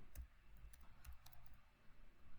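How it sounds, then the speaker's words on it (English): Keys on a computer keyboard are tapped to enter a software command, a short run of light, close clicks with a few soft thumps, quiet and unaccompanied. "we can go to the command line and type Dimcontinue"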